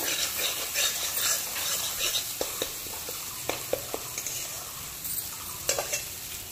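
Spice paste for an eggplant curry fries quietly in a pan with a soft continuous sizzle, broken by several light scrapes and clinks of a spoon stirring against the metal.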